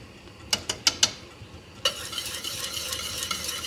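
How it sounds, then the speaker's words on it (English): Strawberry jam at a rolling boil in a pot, four quick spoon taps against the rim followed by a steady bubbling, stirring churn, close and fairly loud, no voices. "this is the rolling boil right here, where it starts to just rise and it cannot be stirred down"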